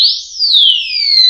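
A motorcycle disc lock alarm sounds alone as a loud, piercing electronic wail that climbs, dips briefly, then holds a steady high tone that slowly falls.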